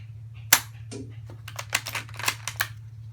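Gunfire from the Virtual-Shot shooting video game: a sharp crack followed by a quick run of several snappy, cap-gun-like pops over a steady low electronic hum, fairly close and loud.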